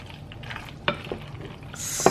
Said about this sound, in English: Just stir that together.